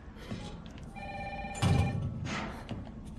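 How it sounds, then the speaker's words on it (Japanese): An old-style telephone rings in Resident Evil 3 at night in Raccoon City, a steady electronic ring with sustained tones against low background ambience and a brief thud midway. "電話っすね。"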